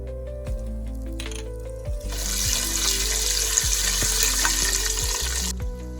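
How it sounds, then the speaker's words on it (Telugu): Peanuts, roasted gram, sesame seeds and green chilies fry in hot oil in a pan, making a steady, loud sizzle. It intensifies partway through, with faint scraping stirs and background music. "ఇప్పుడు అదే ప్యాన్లో కొంచెం ఆయిల్ వేసి ఆయిల్ హీట్ ఎక్కాక మనం ముందుగా వేయించిన పల్లీలు, పుట్నాలు, నువ్వులు అండ్ గ్రీన్ చిల్లీ వేసి బాగా ఫ్రై చేసుకోవాలి"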